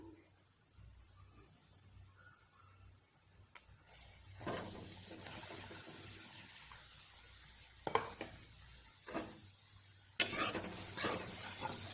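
Maida flour roasting in ghee in a pan is stirred with a spoon, giving soft intermittent scraping and clinks against the pan, a few sharper bursts near the end, with low sizzling in between.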